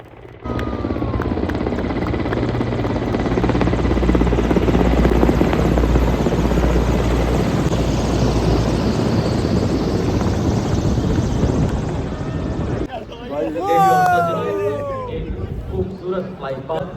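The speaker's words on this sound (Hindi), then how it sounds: "इसी बीच सभी दर्शकों पे हेलीकॉप्टर द्वारा की गई पुष्प वर्षा।" Helicopter flying over a Republic Day parade crowd on Kartavya Path while showering flowers, a loud continuous rotor roar over crowd babble that cuts off abruptly, leaving cheering and whistling voices.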